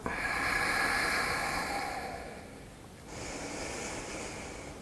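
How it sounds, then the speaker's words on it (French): One long, close, airy breath during a hatha yoga pose: a loud inhale that fades, a short pause, then a softer, hissing exhale, heard alone with no speech. "Et on respire."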